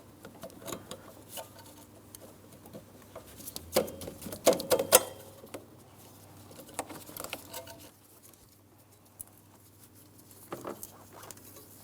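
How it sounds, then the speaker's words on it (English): Metal scraper working old gasket material off the intake ports of a 2004-2008 Pontiac Grand Prix 3.8L V6 during an EGR valve replacement, heard as scattered light scratchy strokes and taps, louder in a cluster mid-clip, with no talking. "You want to attempt to scrape it out and away from inside of these ports."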